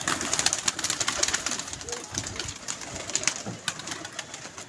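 Pigeons at a pigeon club coo and flutter close by, with soft repeated calls and scattered wing and shuffling sounds over a busy, moderately loud background.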